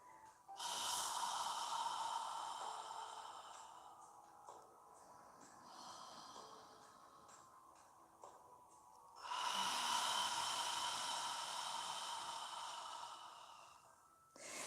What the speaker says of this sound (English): Fill your lungs completely with air and squeeze out all of the air on the exhale.